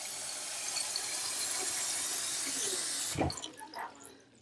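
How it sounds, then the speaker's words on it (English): Cold tap water runs steadily into a cooking pot for about three seconds, a broad continuous rush that then cuts off, leaving a few faint drips and splashes. "I'm going to put a little bit more water in here, cold water."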